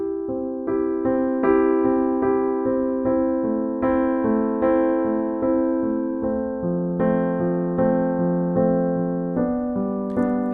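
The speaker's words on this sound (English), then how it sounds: "And this is a nice pop ballad pattern" Piano plays an easy pop ballad right-hand pattern, steady repeating broken-chord notes over held chords, clear and close with no voices.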